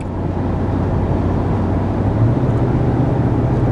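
A gas V8 pickup truck accelerates on a highway toward 70 mph, giving a steady, loud, close drone of engine and road noise with a low rising hum and no pauses.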